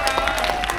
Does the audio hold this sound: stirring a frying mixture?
no